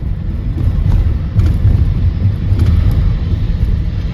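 A KLM passenger airplane passing overhead above a suburban South Shore neighborhood, a loud steady jet roar rumbling throughout, close and unbroken, no talking.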